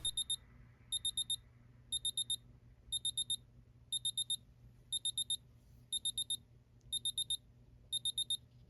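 Loud, high-pitched electronic beeping in quick bursts of four, repeating steadily about every second, a Tissot PRX Digital watch timer alarm, over faint background hum.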